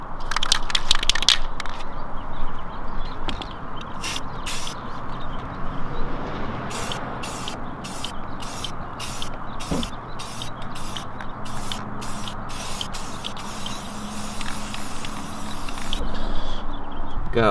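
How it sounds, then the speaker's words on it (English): Short bursts of spray paint hiss onto plastic dirt bike parts inside a paint booth, a rapid series of pulses followed by longer continuous spraying, loud and close with no talk. "It's time to spray them."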